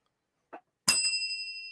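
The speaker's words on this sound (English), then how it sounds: "Oh, hit the bell, honey. Hit the bell." A small metal bell is struck once at a launch party, giving a bright ding that rings out and decays over about a second, preceded by a brief soft knock.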